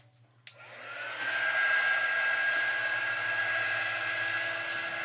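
A handheld hair dryer clicks on and blows steadily at close range, drying a small summer berry wagon craft project, with a brief switch click followed by a sustained whining airflow roar and no talking.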